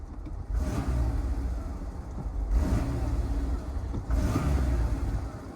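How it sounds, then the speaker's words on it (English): A 1994 Nissan President's engine idling roughly, a steady low rumble that surges in three uneven pulses, close to the car. "It's almost like a little bit of a rough idle."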